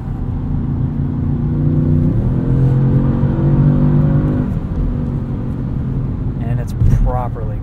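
A 2016 Audi S7 engine hums and builds steadily as the car accelerates, with someone talking over the drone throughout.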